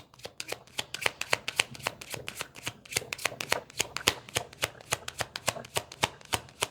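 A deck of tarot cards is shuffled by hand in rapid, rhythmic riffling, a dense run of crisp close flicks and snaps continuing steadily with no voices.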